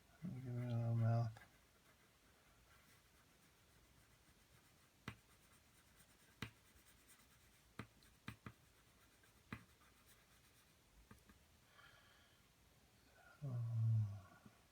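A pencil drawing a cat on paper: soft, steady scratching strokes with a few sharper taps, quiet and close, with a voice heard briefly at the start and again at the end.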